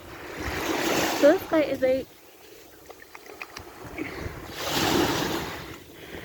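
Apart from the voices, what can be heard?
ocean waves washing in at the water's edge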